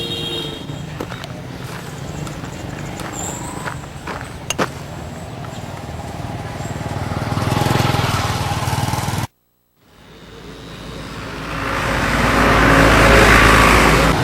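A tuk-tuk's small engine putters along a main road in Phnom Penh, steady motor drone with passing traffic, a brief cut to silence, then a louder surge of engine and road noise.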